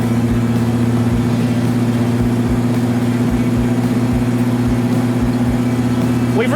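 A Reliant Robin three-wheeler travels at about 70 mph in traffic, its engine holding a loud, steady drone with faint rhythmic thumps from the road beneath it.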